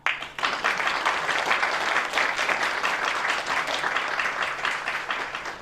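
Congregation at a staff worship service clapping to welcome a pastor, dense sustained applause starting abruptly and staying strong and close before tapering slightly at the end.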